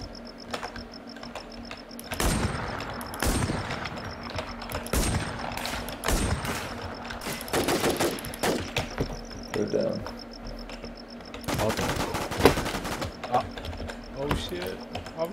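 Gunfire from a hillside in a shooter video game, heard as a series of sharp, loud shots in bursts scattered across the stretch, with talk running underneath.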